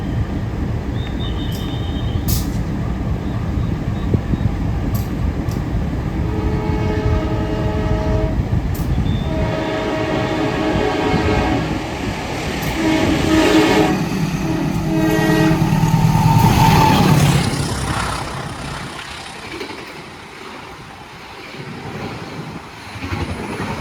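A train rumbles past a station in Indonesia with clattering wheels, and a horn blares loudly midway before the noise fades into the distance.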